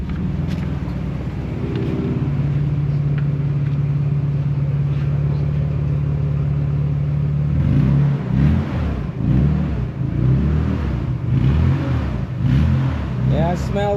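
A Nissan 300ZX's engine runs for the first time in 15 years, idling steadily at first, then rumbling and surging unevenly as the throttle is blipped, with the pulses growing more irregular toward the end.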